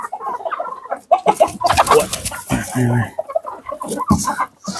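Black Andijon roosters and hens at a poultry farm cluck and squawk close by in busy overlapping calls.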